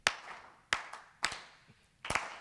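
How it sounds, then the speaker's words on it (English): Sharp, close hand claps in a steady rhythmic pattern, four main strikes with faint lighter claps between, the last a quick double clap, heard alone in a quiet room during an evening with a choreographer. "If you're rhythmically challenged, you can just keep clapping this."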